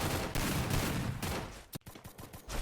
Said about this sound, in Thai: ดูเสียงปืนดิโคตรเยอะเลย